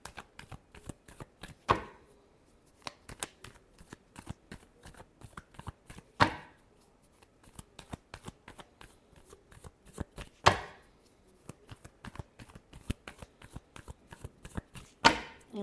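A tarot card deck is shuffled up close in repeated bursts of papery riffling and flicking, with a few sharper louder riffles standing out, and no voices.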